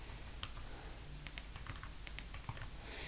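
Computer keyboard typing as scores are entered into a scoring program, a quiet run of light, irregular key clicks with brief pauses, alone against faint room noise.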